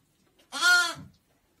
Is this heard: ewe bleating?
yes